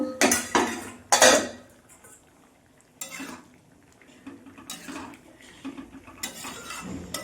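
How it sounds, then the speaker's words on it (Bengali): Metal lid lifted off and clattering against a pot of simmering vegetable dal, with a few sharp clinks and scrapes of cookware in close succession, loud and near, with no voices. "ঢাকাটা খুলে দেখব"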